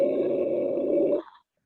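A person's voice imitates a deep metal growl, a single sustained rough low roar lasting just over a second, loud and close, then cutting off abruptly.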